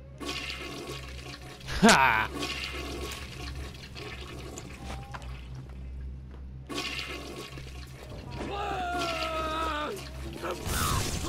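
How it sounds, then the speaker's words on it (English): A toilet flushes twice in Bioshock Remastered, a sharp gush then rushing water, followed later by a second flush with gurgling refill; a man briefly exclaims and talks quietly between them. "What happened to these toilets? Let's push that one again."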